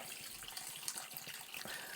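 Water is poured from a pitcher into a pot over a turkey carcass, a steady splashing gush that runs throughout the short moment without any talking.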